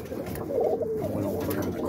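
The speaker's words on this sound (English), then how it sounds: "Pretty bird, but I'm gonna fly it." Pigeons coo softly in a coop, low rolling calls repeating under steady background noise, fairly close but not loud.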